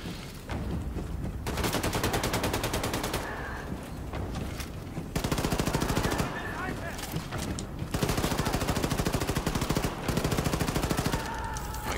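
Heavy automatic gunfire in the shooter Wolfenstein II: The New Colossus, sustained rapid bursts that barely pause, loud and dense throughout, with short gaps between volleys.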